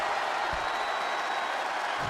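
An arena crowd in WWE 2K24 roars and applauds in a steady, loud wash of cheering that holds throughout the short moment, with a faint voice mixed underneath.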